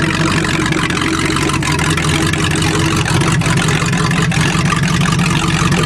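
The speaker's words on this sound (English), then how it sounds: "It's running good with that carb." The carbureted engine of the Cheviac idles at a steady, even rumble while warming up on a farm, loud and close throughout with no pauses.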